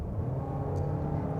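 A 2023 Toyota Corolla Cross SUV's 2-litre petrol engine pulls hard under acceleration, giving a steady, loud, low droning roar that holds evenly throughout the short stretch.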